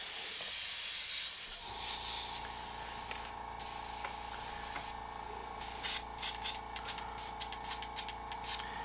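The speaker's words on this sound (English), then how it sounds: "you could always just do the trigger pull and spray" Airbrush spraying paint to build a rough, gritty background: a steady close hiss that runs throughout, with short trigger-pull bursts of spray pulsing toward the end.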